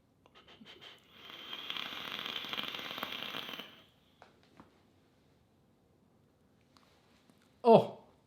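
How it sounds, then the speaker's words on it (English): A Clutch 21700 mechanical vape mod firing a dual coil setup gives a steady, close sizzling hiss for about three seconds, then falls quiet before a sharp, loud clack at the end. "I pushed the go button and it vaped and it fired."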